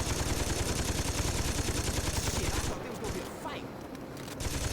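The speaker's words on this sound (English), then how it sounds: "Just shooting. That's all we can do." Rapid gunfire in Saints Row 2 rattles in a dense, continuous burst, loud and close, then cuts to quieter scattered noise before resuming at the end.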